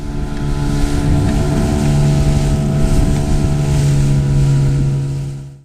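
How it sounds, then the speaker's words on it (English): A motorboat pushes through strong tidal water off Gometra, its engine droning steadily with a sustained hum under wind and the wash of water against the hull, close and loud before fading slightly at the end. "I could feel the boat getting a little sluggish as it fought against millions of gallons of water flowing past Gometra"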